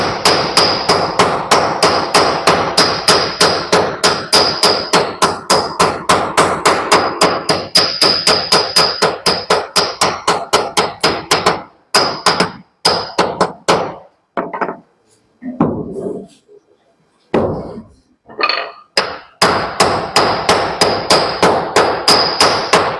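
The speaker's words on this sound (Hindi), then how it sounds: "हम दोनों तरफ से ठोकेंगे और दोनों तरफ से ठोकेगा ये फर्श पे रखेंगे।" Transformer core laminations are hammered from both sides, fast regular metallic strikes in a long run, then scattered irregular blows with pauses, then a steady rapid run again, close and loud.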